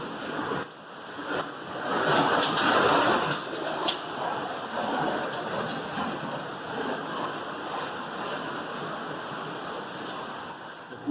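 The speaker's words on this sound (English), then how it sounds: "Well, it's raining," Rain falls outside a carport beside an engine stand and an air conditioning unit, with hail bouncing in the grass nearby: a steady broadband hiss that swells for a few seconds, then settles to a constant wash.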